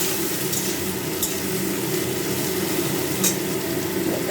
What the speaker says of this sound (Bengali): একটু ঢাকা দিয়ে দিয়ে এটাকে ভাজতে হবে।